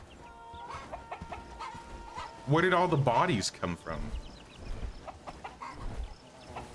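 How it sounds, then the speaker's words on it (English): Chickens cluck and squawk in the Bellwright video game. A short loud burst of clucking rises mid-clip among fainter clucks, while a person talks over it. "Oh no, there's a lot of chickens."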